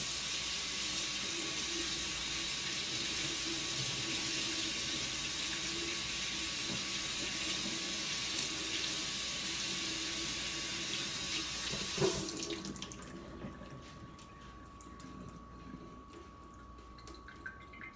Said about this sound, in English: I'm going to wash it at least 3-4 times in water